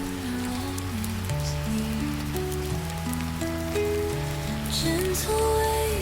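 Soft, steady rain patters continuously, close and even, under a gentle melodic tune that plays throughout.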